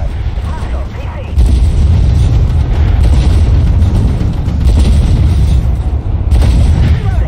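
Heavy booming missile explosions in a video game mission, loud and continuous with low rumbling blasts over several seconds, under a steady din of battle.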